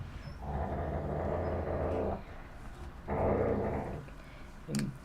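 A husky and a pit bull–mastiff mix growl and grumble in play over a bone, two long rough bouts close by, indoors with no talking.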